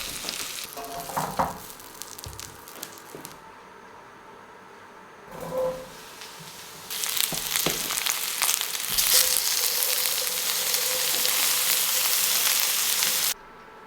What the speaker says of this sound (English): then I can get my mushrooms in and start frying them in batches